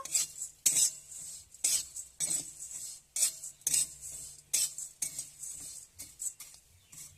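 Metal utensil scraping and clinking against a pan in repeated bursts, dry puffed rice with fried peanuts being stirred and tossed, close by with no talking.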